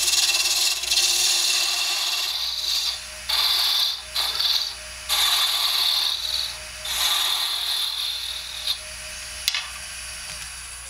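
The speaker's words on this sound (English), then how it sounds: "when I'm roughing this out and getting it down, removing material, I'll just use a spindle roughing gouge" A spindle roughing gouge rough-turns wood for a sea urchin ornament on a lathe, giving a close, loud hissing scrape in repeated bursts separated by short pauses.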